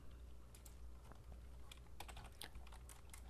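Rapid, uneven clicking of keys on a computer keyboard while a code comment is typed, close and fairly quiet over a low steady hum, with short bursts of keystrokes.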